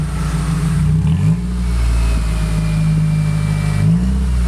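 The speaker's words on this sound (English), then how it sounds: "Yeah, give it a rev." A Nissan 180SX with a straight-pipe exhaust revs close by, its loud, raw engine note rising and falling through a couple of throttle blips over a steady rumble.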